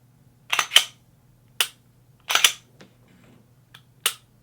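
Crisp, close mechanical clicks from an Agency Arms M&P pistol trigger resetting, coming in a few separate single and paired clicks in an otherwise quiet room.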